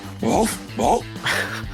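A man imitates a deep, guttural dog bark from the throat, producing three loud, close barks in a steady rhythm.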